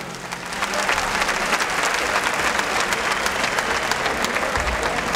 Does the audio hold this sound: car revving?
no